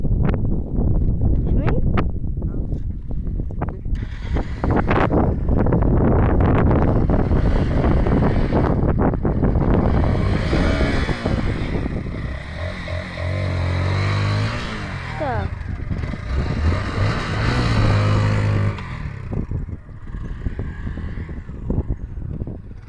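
A motorcycle engine starts up and revs loudly and close by, with roaring bursts over wind noise and a voice speaking briefly.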